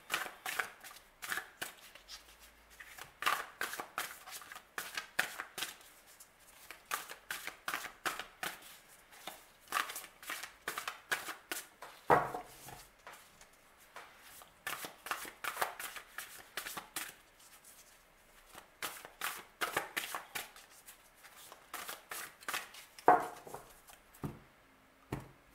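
Inner child oracle cards are shuffled by hand in repeated quick riffling bursts, crisp rapid flutters that come in clusters separated by short pauses, close and clear with no talking.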